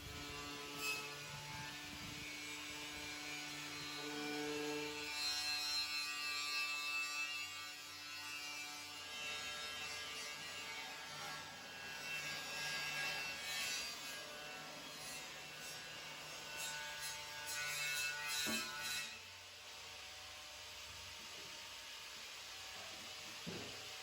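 A tractor's hydraulic reservoir pan and gasket surfaces on an Oliver Super 55 or 550 are scraped and scrubbed clean, giving repeated rasping, rubbing strokes that swell and fade, with a steady background hum.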